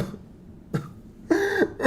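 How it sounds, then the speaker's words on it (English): A single close cough breaks the quiet, followed after a pause by a strained, wavering cry-like vocal sound, with no other talk. "That was a cough that went into a cry."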